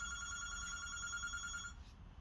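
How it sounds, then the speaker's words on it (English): A house phone rings with a steady electronic trill that carries clearly for most of a single ring and then cuts off, with no one talking. "It's a house phone."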